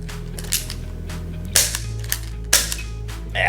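An XYL Python 357 Golden Edition gel blaster revolver fires a few sharp, cap-gun-like cracks, spaced about a second apart, over a steady low hum.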